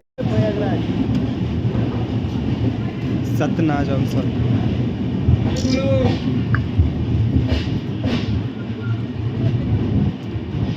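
Passenger train on the Kolkata to Ujjain route rolling through a junction station, a steady loud rumble and wheel noise filling the whole stretch while someone talks over it.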